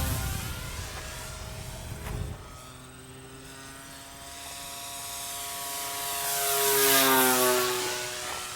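A Dynam radio-controlled model warbird, one of a P-51, Spitfire or T-28, flies past with a thin electric motor whine that fades, then swells with a clear Doppler sweep as it comes near, over a low outdoor hum.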